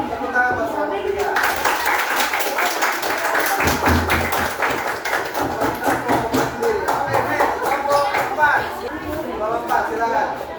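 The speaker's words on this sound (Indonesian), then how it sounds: "Tepuk tangan buat suami dia" Classroom applause from a group of students clapping together for about ten seconds, steady and fairly loud, with chatter and voices mixed in throughout.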